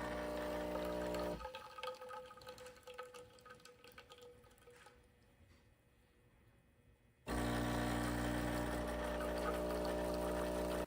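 A new espresso machine pumps and drips while brewing a double shot, a soft trickling hum that thins and fades toward quiet, then a loud steady machine drone cuts back in near the end.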